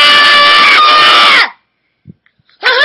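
A shrill, sustained scream from a child cuts off abruptly, followed by a brief pause and the start of another high-pitched cry.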